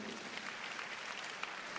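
Steady, dense applause from a church congregation during a sermon, a continuous wash of many hands clapping, fairly faint and distant, with no voice over it.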